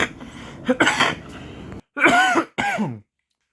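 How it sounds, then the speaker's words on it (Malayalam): A few harsh, close coughs and throat-clearing bursts in quick succession, then silence. "സോറി, ചുമയുണ്ട്, അതുകൊണ്ടാണ്"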